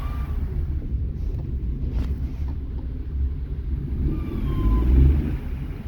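A Vauxhall Corsa C that had been smoking rumbles steadily on a short test drive, with low engine drone and road noise heard from inside the cabin, rising slightly near the end, with some wind buffeting.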